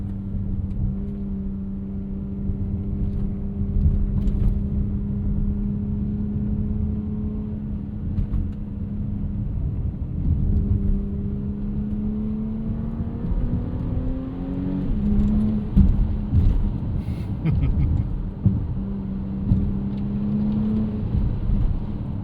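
A 2025 Audi SQ5 turbo V6 SUV on snow tires in cold weather doing a launch control start: the engine note rises steadily through several gear changes, a strong rumbling drone heard from inside the cabin.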